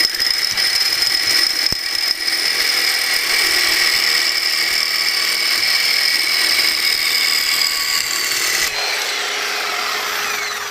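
A reciprocating saw with a worn, blown-out carbide blade cuts steadily and loudly with a harsh high whine for about nine seconds, then the tone shifts and eases as the cut finishes.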